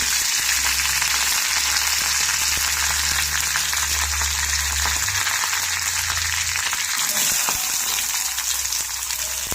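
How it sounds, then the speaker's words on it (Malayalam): Chopped onion sautés with curry leaves and dried red chillies in a pan for a Kerala-style bean stir-fry, producing a loud, continuous close-up sizzle with faint scraping, no speech. "അതിലേക്ക് ഒരു സവാള അരിഞ്ഞത് ചേർത്ത് കൊടുക്കുന്നുണ്ട്"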